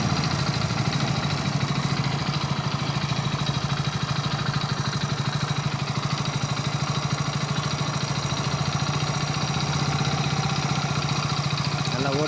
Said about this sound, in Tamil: வண்டி, நல்லா ஓடுது.